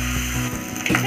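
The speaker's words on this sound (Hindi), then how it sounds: "प्रॉन्स को अच्छे से भून लेंगे।" Prawns frying in oil in a pan for a prawn masala curry, giving a steady, close sizzle with faint scraping and a brief clatter near the end.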